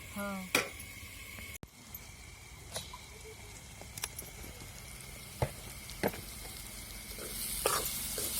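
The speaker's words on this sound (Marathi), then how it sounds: "मसाला चांगला परतून द्यायचा आहे" Masala of onion and tomatoes sizzles in hot oil in a pan for a soybean dry curry, a steady frying crackle broken by scattered clinks and scrapes of a spoon stirring, close by.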